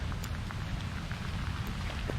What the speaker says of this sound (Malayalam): നല്ല മഴയുണ്ട്